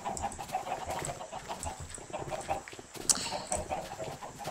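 Chickens in the video game Minecraft cluck in short, repeated bursts over a steady background hiss, fairly close and with no voices.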